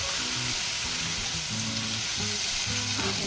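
Tortilla frying in oil in a pan while making chicken and cheese enchiladas; a steady, close crackling sizzle throughout, with a low hum underneath and no talking.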